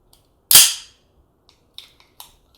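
One sharp, loud airsoft pistol shot close by, followed by a few faint clicks and light mechanical taps.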